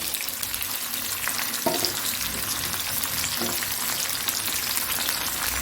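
Small shallots cut into pieces and dried red chillies frying in hot oil for mango curry, a dense, even sizzle with a couple of louder stir bumps, close and continuous with no speech.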